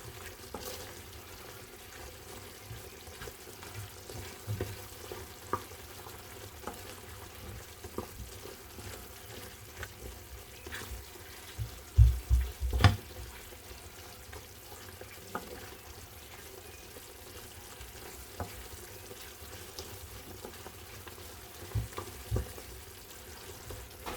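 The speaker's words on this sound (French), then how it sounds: "À l'aide d'une cuillère, on remue le tout." A spoon stirs cheesy gnocchi in a pan, giving soft intermittent scrapes and gentle sizzling at a low level, with a cluster of louder clatters partway through and no talking.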